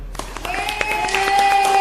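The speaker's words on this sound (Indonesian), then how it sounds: "Tepuk tangan anak-anak." Steady clapping from a group of children fills a classroom, a continuous patter of many hands with a faint tonal hum running underneath.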